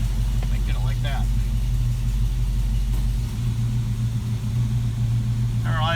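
A Plymouth Duster's engine idles steadily out of gear, a low continuous rumble close by that holds through the whole stretch, with a brief squeaky chirp of another sound near the start and end.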